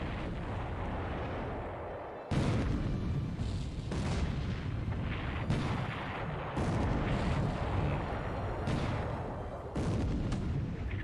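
Naval shellfire at night in the computer war game War in the Pacific: Admiral's Edition sounds as a series of heavy booming shell blasts, about half a dozen spaced a second or two apart over a constant rumbling din.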